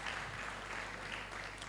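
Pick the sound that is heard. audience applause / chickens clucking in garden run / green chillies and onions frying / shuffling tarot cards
audience applause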